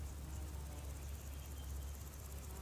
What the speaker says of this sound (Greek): Ακρίδες ακούτε πίσω, μύγες, λίγα πουλιά.